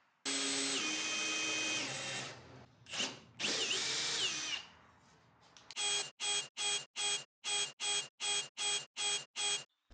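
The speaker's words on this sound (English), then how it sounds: "make some marks and start drilling them out" A power drill with an auger bit whines in long continuous bursts, then a run of about ten short, evenly spaced drilling pulses, loud and close, with no talking.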